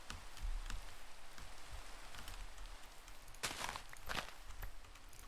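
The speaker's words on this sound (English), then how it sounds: "Oh, of course, I had to start raining." Rain falling in a steady soft patter, faint and close, with a few sharper drops or taps breaking through near the end.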